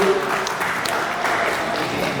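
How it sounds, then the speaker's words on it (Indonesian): Audience applause at an inauguration ceremony for the South Sumatra chapter of an Indonesian professional association of instructors, a steady broadband patter of many hands filling the room throughout, with a faint voice underneath. "Karena itu tepuk tangan dulu untuk Pak Sekda dan Pak Rudi"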